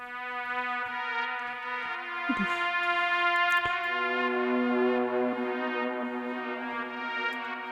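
A lone sustained synth pad with slowly shifting, evolving tones, rich harmonics drifting and wavering over several seconds, no drums or voices.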